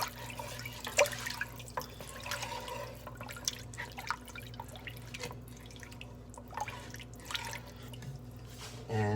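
Water splashing and dripping as it is poured into a pressure cooker pot for chicken noodle soup, faint irregular trickles and drips in a quiet kitchen, with no talking.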